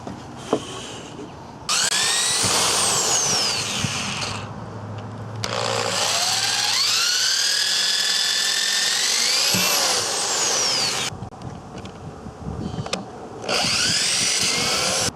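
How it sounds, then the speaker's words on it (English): A power drill whirs loudly in several long bursts, its pitch rising as it spins up and bites into wooden boards while pre-drilling, with short pauses between runs. "I'll just pre-drill through these areas"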